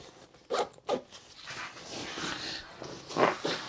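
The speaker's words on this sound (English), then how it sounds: "So zipping this guy all the way up." A backpack zipper is pulled closed in a few quick close strokes, a couple of sharp zips followed by a longer steady rasp and a final tug, with no talking.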